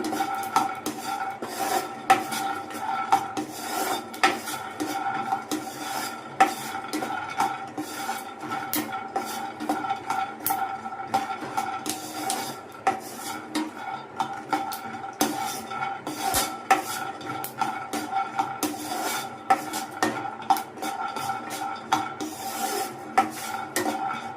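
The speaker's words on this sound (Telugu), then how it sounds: "మాడిపోకుండా మధ్యలో ఇలా కలుపుతూ ఉండాలండి." Chicken pieces frying in a pan for biryani, stirred continuously to keep them from burning, giving repeated rasping scrapes of a utensil against the pan over a low steady sizzle, no talking.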